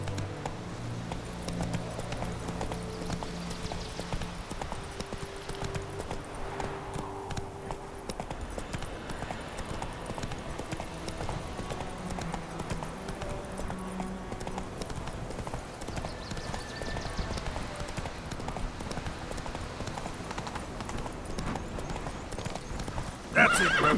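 Roach, a horse in the video game Witcher 3, gallops with steady clip-clop hoofbeats and occasional whinnies over game music and ambience, with a brief louder burst at the very end.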